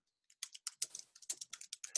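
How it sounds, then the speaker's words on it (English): Someone types fast on a computer keyboard, a quick run of crisp, fairly quiet key clicks that begins after a brief silence. "Oh, he's typing like a demon."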